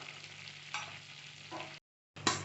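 Bay leaf and cinnamon stick frying in melted butter for restaurant-style paneer butter masala, a steady soft sizzle with a few stirring scrapes, a brief gap of silence, then a louder burst of sizzling.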